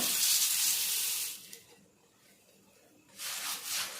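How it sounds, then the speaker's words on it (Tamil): Puffed rice is rinsed in water, which splashes and swishes steadily, then quiets for a moment before the sloshing resumes, close by. "தண்ணியில் கொட்டி அலசிக்கலாம்"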